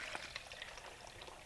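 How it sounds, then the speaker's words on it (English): Hot brisket cooking liquid pours into a measuring cup, a faint continuous splashing trickle at close range, steady for the whole moment with no talking. "I'm just going to pour some into this measuring cup"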